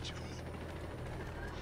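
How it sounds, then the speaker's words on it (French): A helicopter in Ghost Recon Wildlands drones steadily with a continuous rotor hum that holds at a constant level throughout, under game ambience. "c'est un hélico"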